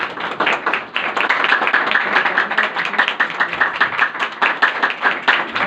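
Church congregation at a Sunday service giving hearty applause, dense rhythmic clapping from many hands filling the room steadily from start to finish, loud and close, with no voices over it.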